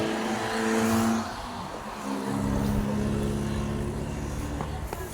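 A car goes by up close, its engine droning in steady harmonic tones that shift pitch as it passes, with little else around it.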